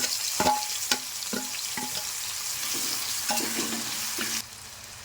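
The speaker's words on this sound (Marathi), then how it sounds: "त्यामध्ये आता कांदा आणि टोमॅटो टाकणार आहोत।" Potatoes, onion and tomato fry in a pan under a continuous sizzle, broken by repeated scraping knocks of a spatula stirring the mixture, all close and fairly loud.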